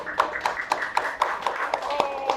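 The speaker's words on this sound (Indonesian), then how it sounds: "Kita beri tepuk tangan yang sangat luar biasa dulu" Rhythmic clapping from a classroom group, steady beats roughly every quarter second, with voices underneath and close by.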